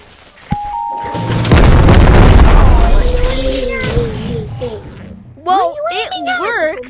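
A rocket launcher round goes off in the VR game Animal Company: a sharp pop, then a loud booming blast that rumbles for a few seconds, followed by a voice speaking.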